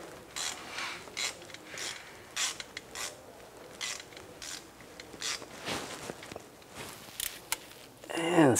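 A crankshaft position sensor bolt being started by hand on a Cadillac SRX, with close, intermittent ratchet clicks and faint metallic scraping, then a brief louder rattle at the end.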